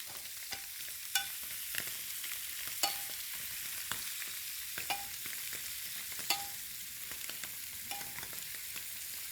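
Blackened catfish fillets fry steadily in a hot pan, a continuous close sizzle broken by occasional sharp clicks and pops, with no talking.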